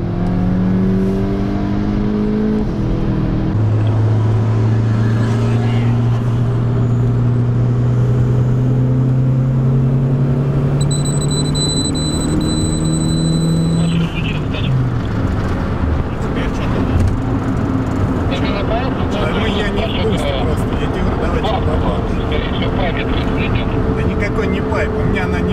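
A Skoda Octavia A7 1.8T drag races an Audi A5 2.0T, and the engines rise in loud climbing revs, shift, and climb again, then settle into a sustained roar as the cars speed off. People talk over the engine noise.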